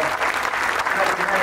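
Crowd applauds the McConville family at a 101st Airborne Division change of command ceremony at Fort Campbell, Kentucky; steady, dense clapping fills the whole short stretch.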